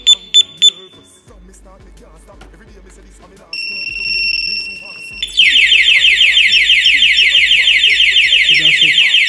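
A motorcycle alarm system sounds: a few sharp beeps, then rising electronic tones that build into a loud, continuous warbling siren, with background noise and faint talk.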